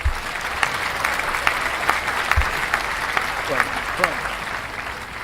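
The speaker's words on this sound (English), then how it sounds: "so we got the applause." Steady applause from a crowd fills the clip, a dense wash of clapping that stays fairly even throughout.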